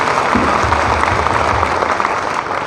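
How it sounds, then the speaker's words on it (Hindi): Sustained audience applause after a call for loud clapping for an honored guest at a business event, a dense, steady wash of many hands clapping close and loud for the full length, with no talk over it. "एक बार जोरदार ताली होनी चाहिए"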